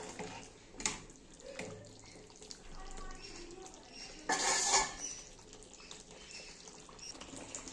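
A spoon clinks and scrapes against a pot while chicken is stirred for a Bengali-style potato chicken curry, with sharp knocks and a brief louder rattle midway over a faint background hiss.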